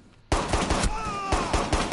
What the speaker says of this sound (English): I'm only going to use a pistol